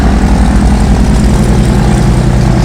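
A propeller aircraft sent in to fly out the injured after a school dormitory fire has its engine running, a loud, close, steady low drone with no talk.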